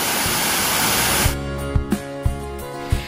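Water pours down the Curug Tirta Sela waterfall in Banyumas with a dense, hissing roar for just over a second before plucked musical notes take over.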